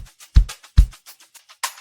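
A dry, unprocessed shaker sample loop in an Afrobeat track plays alone without EQ, with sharp shaker hits mixed with deeper thumps in a quick, uneven rhythm.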